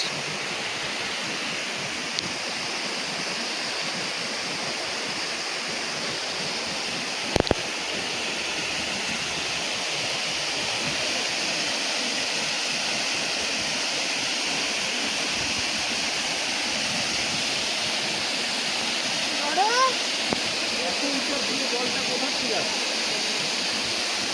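Turga Falls waterfall in Purulia roaring steadily as a broad, constant rush of water, with a single sharp knock early on and faint brief sounds near the end.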